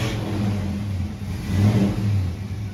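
A car engine, likened to a 747, revs loudly and close by in a garage with a strong low rumble that rises and falls as the throttle opens and eases. No one speaks.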